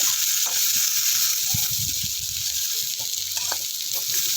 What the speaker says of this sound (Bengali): তারপরে আলুগুলোকে আরেকটু সময় নিয়ে লালচে করে ভেজে নেব